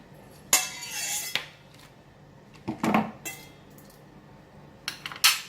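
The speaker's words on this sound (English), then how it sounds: "Then we just stir it." Spoon clinks and scrapes against a bowl while Thai mango salad dressing of fish sauce, sugar and salt is stirred, three separate bursts of bright metallic clatter with quiet pauses between.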